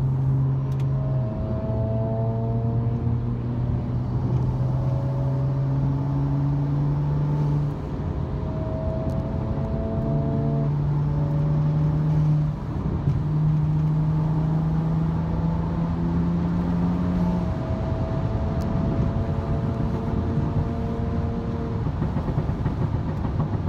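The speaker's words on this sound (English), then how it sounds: "Oh, those M54 burbles are so loud." A BMW M54 engine drones steadily while the car drives along a backroad, with shifting tonal harmonics as revs rise and fall, loud and continuous throughout, without distinct burbles standing out.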